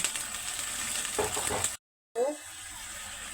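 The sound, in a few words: water added to fried chillies and ginger, sizzling in pan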